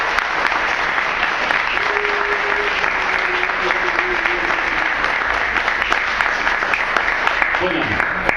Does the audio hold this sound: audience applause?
yes